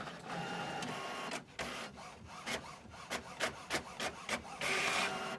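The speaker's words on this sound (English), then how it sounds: "we are now sending it to the printer" An inkjet printer runs off a decal for a pinball restoration, its print head shuttling back and forth in a steady series of short mechanical passes with brief pauses, close and clear with no talking.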